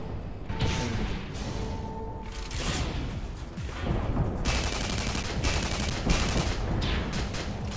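Rapid gunfire in the online shooter Tribes Ascend, dense bursts of weapon fire and impacts running continuously at close range with a crackling, busy texture, no speech over it.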